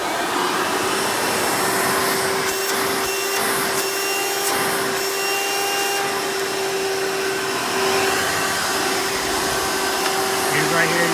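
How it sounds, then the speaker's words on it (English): A Hoover Elite U4641-930 energy-efficient upright vacuum runs steadily with a loud, constant motor whine and airflow rush, and a brief change in pitch partway through, with a voice faintly underneath. "The suction's pretty abysmal because this is a direct air-based vacuum."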